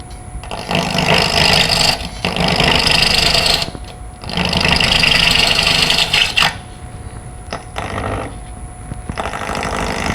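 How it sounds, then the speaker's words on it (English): Wood lathe spinning a square bowl blank while a bowl gouge cuts it, giving loud sustained bursts of interrupted cutting noise with brief pauses between passes. "the best way to do this is with a bowl gouge"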